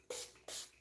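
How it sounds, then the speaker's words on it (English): Two quick bursts of Joy Green Tea toner mist spray onto a face at close range, each a soft hissing puff with a short pause between. "I'm going to use this Joy Green Tea toner, and I'm just going to spray it all over my face"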